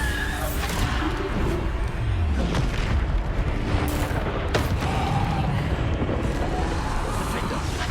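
Bombarda blasting spells explode in Hogwarts Legacy, with loud repeated booming bursts and crackling debris in a dense, continuous battle soundscape.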